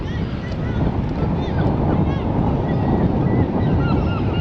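Seagull cries ring out repeatedly at a distance over heavy wind and rumbling boat noise at Canoe Lake, Southsea, with a voice partly audible in the mix.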